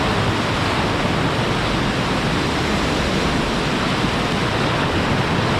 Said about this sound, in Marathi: धरणाकडनं हे पाणी चाललंय बघा किती फोर्स आहे या पाण्याला